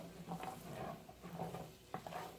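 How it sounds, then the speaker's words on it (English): Butter and bacon sizzle in a pan over medium heat while a utensil stirs in repeated scraping strokes, with a close, moderate frying hiss throughout. "we're going to just keep stirring that until the butter melts"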